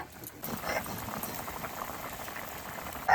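Vegetable curry boils in a pot in a village kitchen, a steady close bubbling and gurgling of liquid that runs the whole short stretch without any talk.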